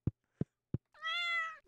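A cartoonish cat meows once in a farming video game, a drawn-out harmonic cry following three short dull knocks, close and clear with no talk.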